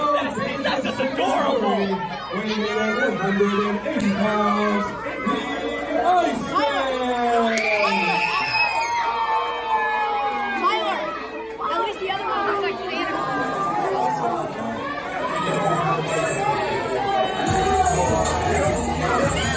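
A wrestling event crowd roars with cheering, whoops and dense chatter throughout, swelling and staying loud as a voice talks over the noise.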